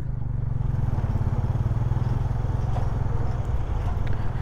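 A white horse walks on a street, its steady clip-clop under a constant low rumble that sounds like nearby traffic or engines, with no voices.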